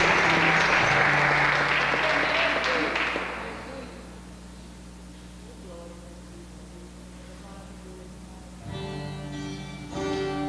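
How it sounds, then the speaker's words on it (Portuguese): A church congregation applauds during a worship service, a dense wash of clapping for about four seconds that fades out, leaving a low steady hum, then music or voices rising near the end. "Você pode aplaudir o Senhor, vamos louvar."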